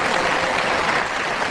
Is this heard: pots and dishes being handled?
no